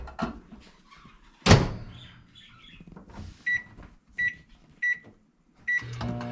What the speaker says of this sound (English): here's the microwave. It's going in for